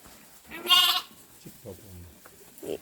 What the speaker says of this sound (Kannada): ಕುರಿ ಮತ್ತೆ ಮೇಕೆ